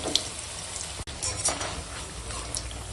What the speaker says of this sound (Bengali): কড়াই তেল দিয়ে দিয়েছি, তেল গরম হয়ে গেছে, বড়িটা দিয়ে দিলাম, দিয়ে এখন বড়িটা ভেজে নেবো